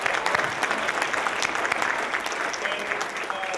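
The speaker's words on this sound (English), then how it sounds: "let's give the mayor another round of applause" A college lecture audience applauding for the mayor, a full, dense burst of clapping from many hands that stays strong and even throughout, with faint voices mixed in.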